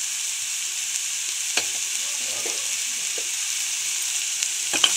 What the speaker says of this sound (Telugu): మసాలా పేస్ట్ వేసుకొని మంచిగా కలిపేసుకొని ఒక 2 to 3 minutes అనేది పచ్చివాసన పోయే వరకు మనం ఫ్రై చేసుకోవాలి